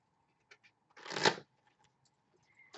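Tarot cards are shuffled in one brief, papery riffle lasting about half a second, close and moderately loud, with faint small taps before and after in an otherwise quiet room.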